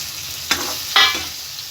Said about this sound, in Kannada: ನಾನು ಇಲ್ಲಿ ಪನ್ನೀರ್ ಹಾಕೊಂಡು ಫ್ರೈ ಮಾಡ್ಕೊತಾ ಇದ್ದೀನಿ.